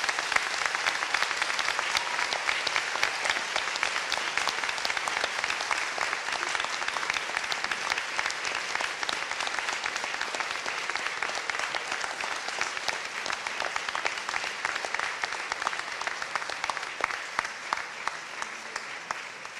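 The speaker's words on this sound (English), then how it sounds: "turn to face your supporters, and give them a rousing round of applause." Graduates at a Bath Spa University School of Education ceremony give their supporters sustained applause in an auditorium, dense clapping from a large crowd that holds steady for the whole stretch.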